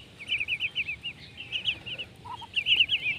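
Young Muscovy ducks of the jali type, pink-billed with yellow feet, give rapid runs of squeaky, repeated calls in three bursts, close and fairly loud.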